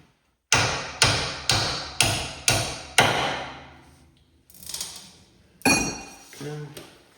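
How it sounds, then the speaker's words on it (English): A hard-face hammer strikes the lower ball joint of a 1998 Ford Crown Victoria: six sharp, loud metallic blows at an even pace, followed by a few quieter clanks and scrapes. "You can use a hard face hammer."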